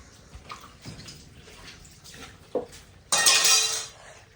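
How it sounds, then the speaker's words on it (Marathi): Dishes left over from the night before are washed: scattered clinks of pots and cutlery, then a loud rush of running water from a tap that fades away at the end. "अगं भांडी चालले बा रातची राहिलेली."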